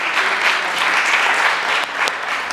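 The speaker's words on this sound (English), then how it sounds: "do you want to give them a round of applause for reviewing?" Audience at a youth charity foundation's annual general meeting applauding, a dense, loud wash of clapping that holds steady throughout with a brief dip near the end.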